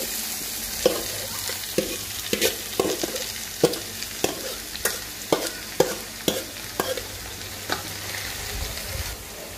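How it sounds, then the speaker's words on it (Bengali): Cauliflower fries in a pan over a soft steady sizzle, with a spatula scraping and knocking the pan in a regular rhythm of about a dozen sharp strokes. "এখানেই আমি ফুলকপিটা বাগার দিচ্ছি।"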